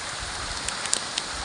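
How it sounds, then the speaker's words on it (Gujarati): Heavy rain pours down on a farm as a steady, dense hiss with a few sharper drop impacts, brief and unbroken. "વરસાદ"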